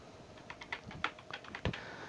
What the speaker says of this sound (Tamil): அந்த ஓடிபியை நான் இந்த இடத்துல டைப் பண்ணணும்